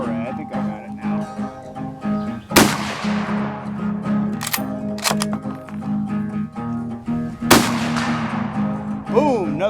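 A sporterized Enfield No4 Mk1 rifle fires loud, sharp shots, each with a long echoing tail, over steady background noise outdoors.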